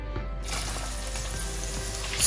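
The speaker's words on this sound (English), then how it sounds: "I'll just add some spring onions to the oil." Spring onions sizzle steadily in hot oil in a pot while beef and vegetable jollof rice is being cooked, a loud continuous close frying hiss that starts abruptly after a quiet moment.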